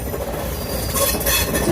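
A passenger train winding around a mountain through redwood forest near Santa Cruz, heard as a steady rumble of wheels on rails with faint metallic squeals, close and continuous.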